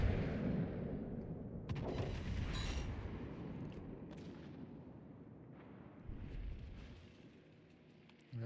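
Naval gunfire in World of Warships: Legends, with heavy booming shots and rumbling impacts arriving in clusters, layered and continuous, some sharp cracks standing out over a low, rolling rumble.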